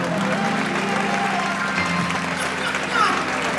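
Audience applause at an Italian speech event, a steady wash of many hands clapping that fills the clip evenly, with a brief swell near the end.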